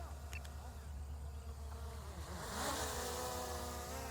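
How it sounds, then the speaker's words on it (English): A DJI Mini 3 Pro drone flies outdoors in sport mode with a faint, steady insect-like buzz that swells as it passes nearby. "I just want you to listen to how quiet this is. It's in sport mode now."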